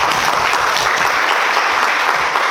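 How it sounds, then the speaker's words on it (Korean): A church congregation claps after a violin performance, loud, dense and steady applause close by, lasting a couple of seconds without any voices. "박수 한번 할까요?"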